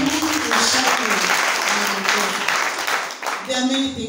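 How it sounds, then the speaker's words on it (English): A church congregation breaks into steady applause and hand clapping, a dense, fairly loud wash of claps lasting several seconds, with a voice speaking over it. "Let's give a hand clap."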